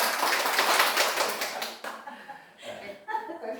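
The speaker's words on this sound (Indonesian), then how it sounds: "Tepuk tangan ya." Adults clap together during a stunting-prevention training session, a burst of dense hand claps that thins out after about two seconds into scattered claps and murmurs with some laughter.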